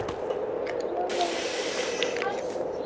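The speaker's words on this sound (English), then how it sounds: "Needs a little bit more spraying." Water sprays in a steady hiss against a dirty orange truck, a soft continuous rush that swells slightly partway through, fairly quiet and with no speech over it.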